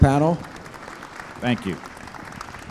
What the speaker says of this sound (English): Can we have a round of applause here for an incredible panel?